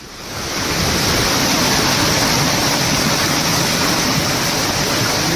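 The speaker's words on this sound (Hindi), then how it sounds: "जम्मू कश्मीर के पहलगाम में बादल फटने से फ्लैश फ्लड" Flash-flood water rushes after a cloudburst in Pahalgam, Kashmir, making a dense, steady roar of churning water that swells in quickly and then stays loud and unbroken, with no voices.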